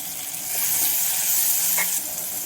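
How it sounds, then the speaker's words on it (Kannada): Onion and tomato frying in a pan for bisi bele bath, a steady bright sizzle with a brief stir or clatter midway, close and fairly loud without speech. "ಈರುಳ್ಳಿ ಫ್ರೈ ಆಗಿದೆ. ಟೊಮೆಟೊ ಹಾಕ್ತೀನಿ."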